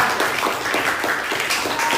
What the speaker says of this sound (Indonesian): beri selamat dulu tepuk tangan untuk Ola